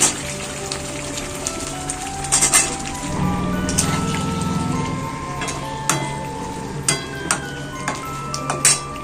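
Potato pieces hit hot oil in a pan for a spicy soybean curry, sizzling steadily with frying crackle, sharp clinks of a utensil against the pan and a brief louder burst of spattering.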